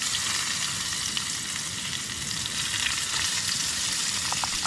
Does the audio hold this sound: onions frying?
yes